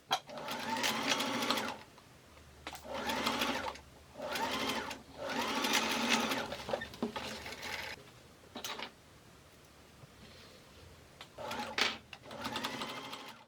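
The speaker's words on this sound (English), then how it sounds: "Then sew around the edges all the way around the waist lining and the collar lining." A sewing machine stitches around the waist and collar lining of a Victorian 1890-style waistcoat, running in several bursts of rapid whirring stitches separated by short pauses, fairly close and with no talking.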